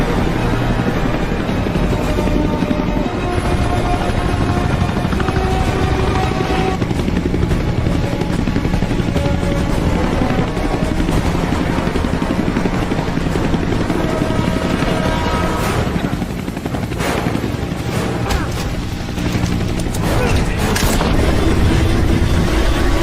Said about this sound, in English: Helicopter going after Walker.